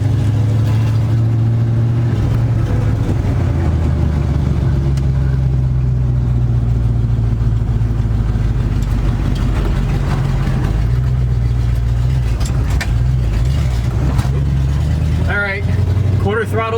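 A 1973 Dodge truck engine drones steadily in first gear at light throttle, a loud, continuous low rumble throughout with faint talk underneath.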